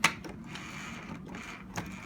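A small plastic part of an ECMO machine, turned counterclockwise into its slot, gives a sharp click at the start and a softer second click near the end over quiet background hum.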